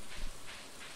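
Steady hiss of rainfall in the video game Stardew Valley, a dense, even patter with no voices, moderately quiet.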